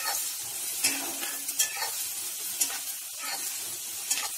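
Whole large cumin seeds sizzle in hot oil for a lentil gravy, giving a steady, fairly quiet crackling hiss with a few sharper spatters and stirring scrapes and no voices.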